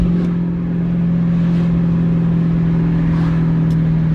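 A supercar engine drones loud and close with a steady, deep tone that holds throughout without any clear rise or fall in revs.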